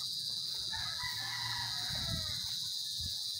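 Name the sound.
chickens clucking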